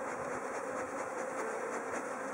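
Bees hum in a faint, steady drone, a continuous buzzing with no pauses and no voices.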